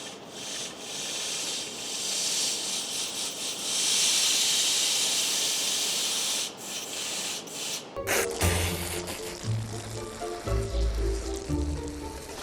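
Compressed air blows out a fuel line on a 1986 Ford F150 as a loud, steady hiss lasting about eight seconds. It stops abruptly and gives way to other, more tonal sounds.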